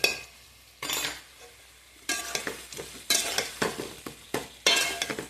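Spices for an amla (Indian gooseberry) pickle being mixed with a spoon in a bowl, heard as several separate bursts of scraping and stirring with faint clinks against the dish, close and fairly loud, with no voices.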